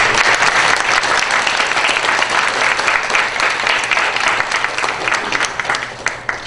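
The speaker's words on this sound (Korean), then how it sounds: "큰 박수 부탁드립니다." Loud, dense audience applause fills a town hall meeting for presidential candidate Moon Jae-in, steady throughout and tapering slightly at the very end.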